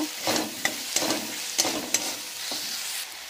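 Chopped tomato sautéed with salt in a hot pan: a steady sizzle under sharp, quick spatula scrapes and taps, about six strokes, close and fairly loud, no talk.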